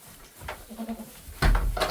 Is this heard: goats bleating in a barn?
yes